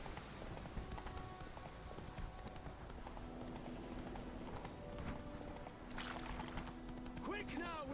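Galloping hooves of the horse Roach in The Witcher 3: Wild Hunt, a steady clip-clop rhythm that runs throughout under game music and ambience, with people talking over it.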